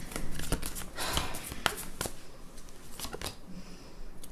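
Tarot cards being gathered up off the floor after a drop: quiet scattered papery slides, taps and shuffles close by, soft and intermittent.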